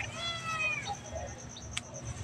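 A cat gives a single clear, drawn-out meow outdoors, fairly quiet and alone over a faint background hum.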